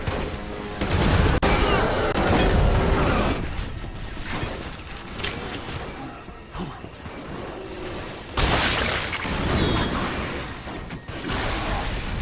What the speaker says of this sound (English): Too many hedgehog grenades.